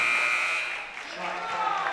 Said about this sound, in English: Buzzer went off before he made the 3